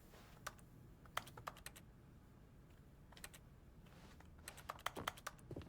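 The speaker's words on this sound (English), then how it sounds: "me clicking button makes it sound like I'm like clicking on a keyboard" Keyboard typing clicks from the video game The Stanley Parable come in quick, uneven bursts of sharp taps separated by short pauses, crisp and close over a quiet background hum.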